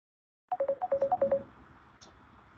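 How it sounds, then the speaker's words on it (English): A WhatsApp incoming call rings as a quick run of bright electronic tones, about ten pulses in one rapid burst, followed by a faint hum, heard alone and fairly quiet. "And we hear someone calling you on WhatsApp, Zoe."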